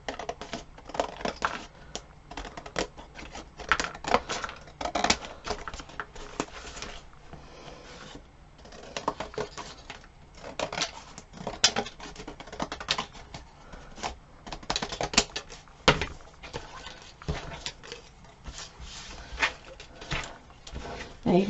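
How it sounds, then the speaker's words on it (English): Scissors trim paper glued onto a board for a patchwork wall hanging craft, making close, irregular snipping and rustling scrapes that continue steadily with no one talking. "I'm just going to take my scissors and trim around the edge."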